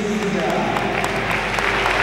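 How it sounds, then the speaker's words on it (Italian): Applause from a crowd at a women's basketball game in an Italian gym, a steady wash of clapping for a player lasting two seconds, with some crowd noise and possible voices mixed in. "gli applausi a Scarponi, così come ha fatto in precedenza per Stella"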